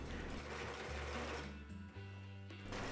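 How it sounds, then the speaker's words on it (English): A sewing machine runs a straight stitch joining a shirt panel to a sleeve, a steady rapid mechanical whirring with a brief slowdown partway through, close and alone. "Sew the panel to the sleeve using a straight stitch and repeat on the other side."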